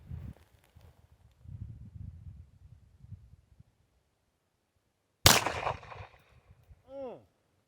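A single sharp firearm shot strikes a red brick, a loud close crack with a short decaying rumble, followed by a brief ricochet whine; quiet rustling and handling noises come before it.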